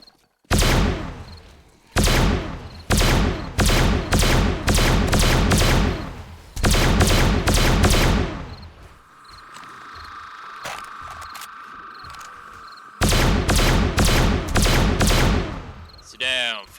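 Video game gunfire in 7 Days to Die with the Darkness Falls mod comes as loud, rapid bursts of automatic fire in several long volleys, a short pause with a humming tone, then another sustained burst.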